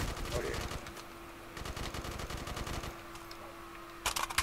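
Gunfire in a Black Ops 3 Zombies custom map called Meat Factory, with bursts of rapid shots in repeated volleys, a steady tone running underneath and a loud final burst near the end.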